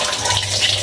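Running tap water rinsing salted, soaked cabbage for homemade kimchi, a steady close splashing flow with no talk.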